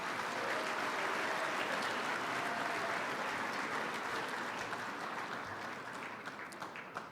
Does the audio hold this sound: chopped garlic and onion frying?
no